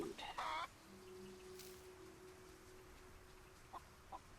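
Chickens in the video game Solarpunk give a short burst of clucking right at the start, followed by a quiet stretch with a faint steady tonal hum and a couple of soft clicks near the end.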